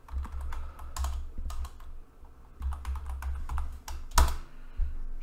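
A name is typed on a computer keyboard, quick bursts of close key clicks in uneven clusters with brief pauses, ending in a louder tap, no talk.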